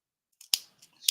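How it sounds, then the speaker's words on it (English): Two crisp snips of scissors trimming thread on a sewn bra, each a sharp bright cut with a faint click between, close and quiet with no talking. "Just trimming here."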